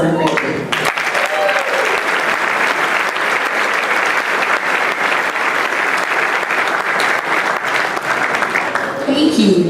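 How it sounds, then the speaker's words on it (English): Sustained applause from an audience at a military NCO academy graduation ceremony fills the hall, dense, even clapping that holds steady for several seconds before tapering, with a voice heard faintly at the edges. "how about one more round of applause for our graduates?"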